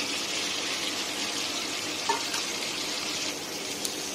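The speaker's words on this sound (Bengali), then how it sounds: "আলুটা প্রায় ভাজা ভাজা হচ্ছে, এর সাথেই দিয়ে রেখে দেবো 3টে বড় সাইজের কুচি করা পেঁয়াজ" Potatoes and three large chopped onions fry in a pan for a yogurt chicken dish, giving a steady, moderate sizzle with faint crackles throughout and no talk.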